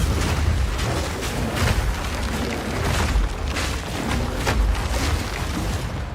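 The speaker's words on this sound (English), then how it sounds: "when you start double and triple volcano slamming bosses" Repeated volcano slam explosions hit bosses in the Path of Exile 2 video game, a dense run of heavy booming impacts and crackling bursts coming every half second or so over a constant rumbling game soundscape.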